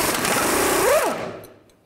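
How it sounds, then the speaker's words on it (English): A 21mm socket and wrench work a bolt loose on the timing cover of a 2000-2006 Chevy Tahoe, giving a close, continuous ratcheting rattle for about a second that fades out. "And I'll take this bolt out right here, the same 21mm socket and 21mm wrench."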